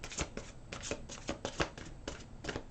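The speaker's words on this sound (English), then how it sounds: "One more little shuffle." Tarot cards being shuffled by hand: quick riffling bursts of papery flicks in an uneven rhythm, close and fairly quiet, with no voices.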